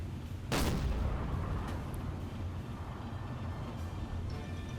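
A submarine's deck gun firing at a ship in Silent Hunter 4: a single sharp report over a steady engine and sea drone, with a faint later thud.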